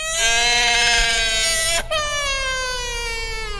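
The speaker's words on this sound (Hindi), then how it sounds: "फिर उस डरावने सन्नाटे को चीरती हुई किसी छोटे बच्चे की रोने की आवाज आई।" A small baby cries in a loud, wavering, high-pitched wail, one long sustained cry that breaks briefly and resumes, close and alone with no talking, suited to a horror story.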